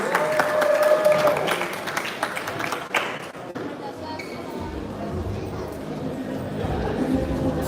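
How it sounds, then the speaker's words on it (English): Applause from an audience at a Tekken 8 esports championship rises and continues steadily, with a voice talking over the clapping throughout. "A round of applause to the incredible ladies."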